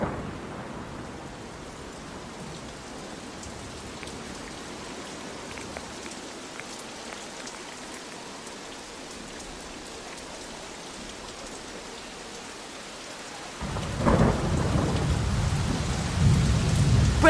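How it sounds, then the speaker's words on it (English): Hours-long rain falls steadily during a thunderstorm in a mountain landscape, a soft constant hiss, until a loud, deep thunder roll breaks in and swells near the end. "It's raining for hours."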